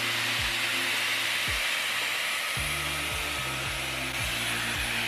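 A Dyson Airwrap hair styler running on its cooling setting, a steady loud rushing airflow throughout, with a low motor hum that dips and rises several times as it is moved, close and alone.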